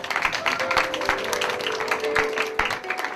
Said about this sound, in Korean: 이 땅에 오신 우리 예수 그리스도께 감사와 찬양의 박수를 드리겠습니다.